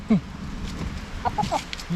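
Chickens cluck in short, soft bursts nearby, with a few quick clucks scattered over low background noise.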